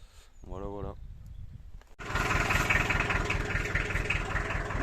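A farm tractor's engine idles steadily and loudly after a brief voice near the start, its low pulsing rumble running unbroken to the end.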